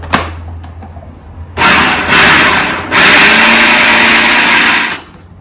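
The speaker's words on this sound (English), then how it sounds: "It needs a little bit more blending there." Countertop blender whirring through cilantro mint chutney, starting after a brief pause and running loud and steady in two bursts separated by a short break, then cutting off.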